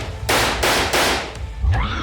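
Three loud gunshots ring out in quick succession, each a sharp broad blast with a short decay, followed by a fainter crack and a brief tonal tail, in a dramatized horror story about aswang hunters.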